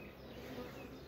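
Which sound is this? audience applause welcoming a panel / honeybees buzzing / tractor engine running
honeybees buzzing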